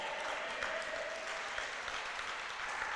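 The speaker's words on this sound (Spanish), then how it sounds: "Dele ese aplauso fuerte al Señor." Congregation in a church applauding loudly in praise, a dense, sustained wash of clapping from many hands throughout.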